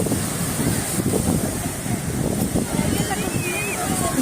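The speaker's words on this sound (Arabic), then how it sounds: "الموج عالي يا ابو فارس، الموج عالي." High sea waves breaking at a crowded Alexandria beach, a continuous rushing roar of surf mixed with wind buffeting the microphone, loud and close throughout.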